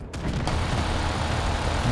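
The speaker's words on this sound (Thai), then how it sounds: "มีเสียงปืนรัวๆเลย มาจากทิศไหนบ้างเนี่ย" Dense, continuous rapid gunfire with booming low rumble, sustained and loud throughout, like a busy firefight in the video game Delta Force.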